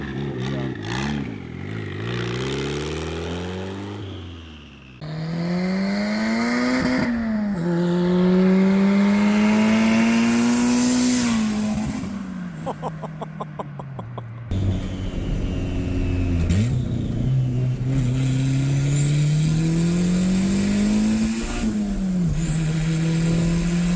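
Rebuilt turbocharged Honda Civic revving hard through rising and falling gears as it drives past, loud and close, with engine pitch sweeping up, dropping at shifts, and a whooshing pass-by midway.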